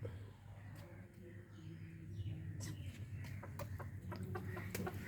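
Chickens cluck in short bursts, several calls close by over a steady low background hum.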